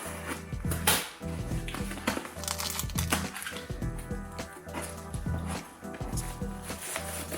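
A cardboard parcel box holding a teacher planner is sliced open with a blade, giving a run of close, crisp scratchy cuts and clicks with a steady low hum behind them.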